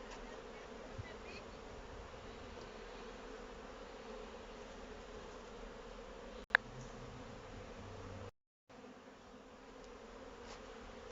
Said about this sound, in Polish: Same pszczoły dzisiaj spokojne.